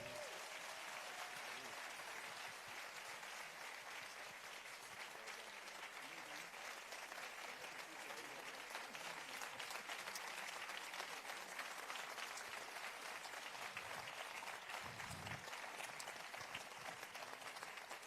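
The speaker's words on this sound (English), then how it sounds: "Put your hands together for our panel, please." Sustained applause from an audience for a panel of Emanuel Nine church shooting victims' families after a documentary discussion, a steady wash of many hands clapping heard at a moderate distance.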